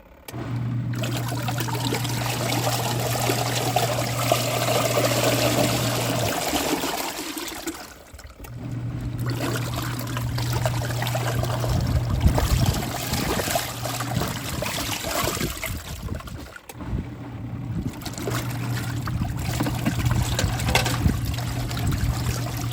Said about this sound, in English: And so we're gonna just give it like a 4-minute rinse cycle.